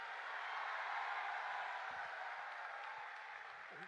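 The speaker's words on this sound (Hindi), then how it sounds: "इनके लिए तेज तालियां।" A large audience gives loud, sustained applause at a talk, a steady wash of many hands clapping with no break for four seconds.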